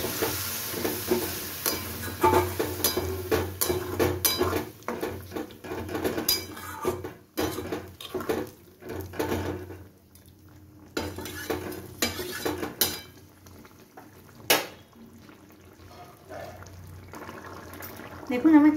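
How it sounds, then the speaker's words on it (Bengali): A bowl of chicken stock, the water the chicken was boiled in, goes into a pan of cooking chicken, raising a loud sizzle and bubbling with scattered clinks of stirring and utensils against the pan, fading into quieter simmering. "এইবার আমি 1 বাটি চিকেন সেদ্ধ জল এর মধ্যে দিয়ে দিচ্ছি।"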